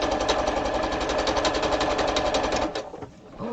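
A sewing machine stitching a large grocery tote bag, a fast loud rhythmic run of needle strokes that slows and stops near the end before a brief restart.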